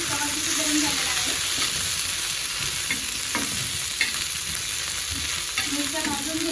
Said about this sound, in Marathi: आता मिरच्या आपण भाजून घेतल्या.